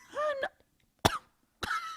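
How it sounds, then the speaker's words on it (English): A coughing robot gives three short, loud coughs with silent gaps between them, close up and with no talk. "Wait, whoa, wow, it's a cough."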